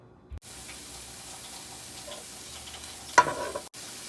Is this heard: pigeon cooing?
no